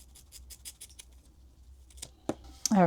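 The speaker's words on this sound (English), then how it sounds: "the first thing I'm going to do is cut the mane off" Scissors snip the mane off a toy pony in a quick series of close, crisp cuts, then a few louder snips, with a brief voice at the end.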